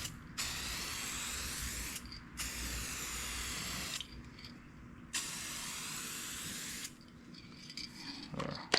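Spray gun laying down clear coat in three long hissing passes with short quiet gaps between them, fairly close, ending with faint handling noises.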